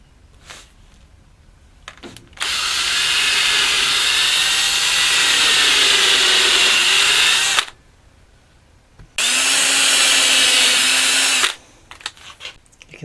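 A power drill drives screws through rubber pads into a kitchen cutting board, two sustained whirring bursts, the first long and the second shorter, with a pause between and quiet handling noises around them.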